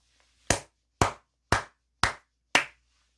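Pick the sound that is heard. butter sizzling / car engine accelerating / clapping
clapping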